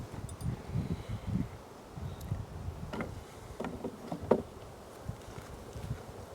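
Honeybees at an open hive during swarm prevention work, a faint low hum under soft rustling and a few handling knocks and taps near the end.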